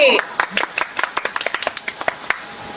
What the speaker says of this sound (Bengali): আসেন নরকন্দর জন্য একটা করতালি